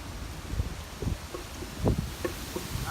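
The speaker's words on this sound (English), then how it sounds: "Oh, the wind's starting to pick up" Strong gusting wind during a windstorm buffeting an outdoor microphone, low rumbling bursts that swell and fade in irregular gusts.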